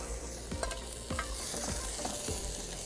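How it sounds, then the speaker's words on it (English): Pork sizzles and fries in a pan at a waterside outdoor kitchen, sweet potato colcannon nearby, with a continuous hiss broken by repeated stirring scrapes and clinks, close and without talk. "Just going to put the pork back into the pan, just for about a minute, just to carry on heating through."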